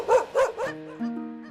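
Rescued dogs at an animal sanctuary in Alfonso, Cavite give three quick barks up close, followed by a whining, whimpering tail.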